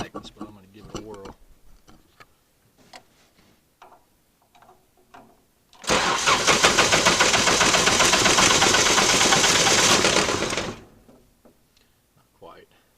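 A diesel truck engine cranks over in a cold-start attempt with glow plugs, a loud, steady churning burst of about five seconds that stops without catching, framed by quiet talk before and after.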